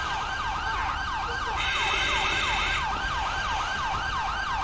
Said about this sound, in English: since this is an ELS truck, I think their siren doesn't cut off yet, does it?